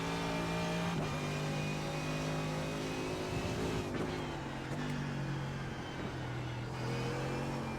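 Racing car engine in the iRacing sim at Donington, a steady loud drone with shifting pitch and gear changes, holding on throughout.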